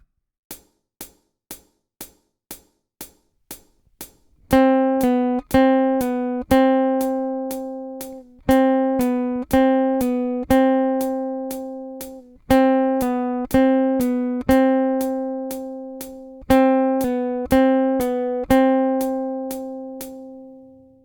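A plucked guitar exercise: a few muted single strums, then ringing repeated picked notes in a steady rhythm, played alone and clearly.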